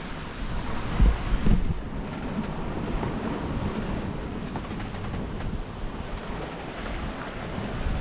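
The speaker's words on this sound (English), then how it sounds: "Just watching the waves go by." Ocean waves and wind wash past a sailboat at sea off Central America's Papagayo coast, a steady broadband rush with wind buffeting the microphone and a couple of heavier gusts or splashes early on, no voices.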